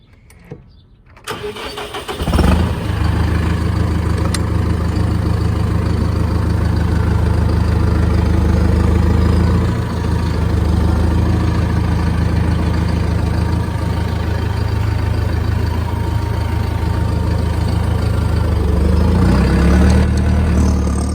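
Tractor engine starting up and then idling steadily on a farm, a loud continuous low rumble running close by for the whole stretch with no talk.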